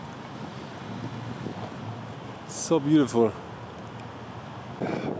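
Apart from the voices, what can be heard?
wind on a windy day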